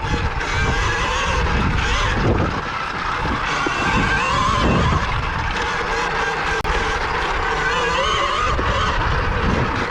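A 2020 KTM Freeride E-XC electric motorcycle accelerates hard, giving a continuous whirring drive noise with rising tonal whine over rough wind and tire rumble, close and steady for about ten seconds with no speech.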